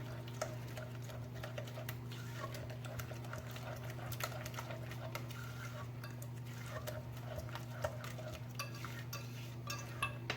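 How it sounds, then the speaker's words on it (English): Eggs are mixed into butter and sugar for a lemon cake batter. A faint, steady mixer hum runs under quiet, repeated clicking and scraping against the bowl. "So now we're going to mix it again really well until all the eggs are combined with the butter and sugar."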